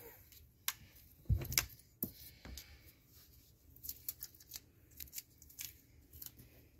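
Needle nose pliers pinch and tug an old recliner pull cable, giving faint scattered clicks and scrapes with one louder clatter of metal early on, close by and quiet, with no talking.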